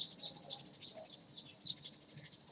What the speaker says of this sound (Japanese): スズメが歓迎している